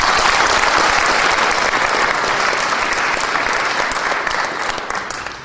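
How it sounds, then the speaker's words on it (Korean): Loud, sustained applause from a seminar audience honoring an artist, a thick continuous roar of many hands clapping at once that tapers off slightly near the end. "우리 그 작가에게 박수를 드립니다."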